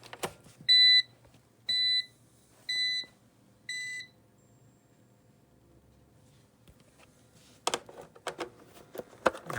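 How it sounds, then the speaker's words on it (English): Four evenly spaced high electronic beeps from an APC Easy UPS battery backup after its mains power is unplugged, clear and close, followed by a few clicks and handling knocks. "That'll give you an alarm."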